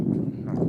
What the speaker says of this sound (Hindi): आज हम ब्रिगेडियर शेखावत सर के साथ में हॉर्स राइडिंग कर रहे हैं